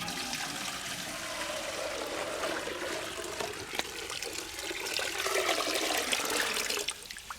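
Fresh seawater is poured on a deserted island beach, giving a steady close gurgling and splashing pour that carries on for several seconds and swells toward the end.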